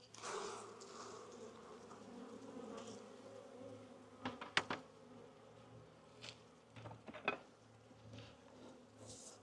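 Steady buzzing of many bees close by around a hive frame, a continuous drone with occasional sharper knocks and taps.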